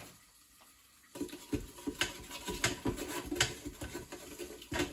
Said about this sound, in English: I'm gonna add just a little bit of my broth just to deglaze this thing